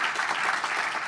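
Steady, even applause from the OECD Forum 2015 audience for the panel, with many hands clapping in a dense continuous wash.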